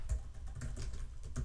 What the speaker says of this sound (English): switch over to the quiet keyboard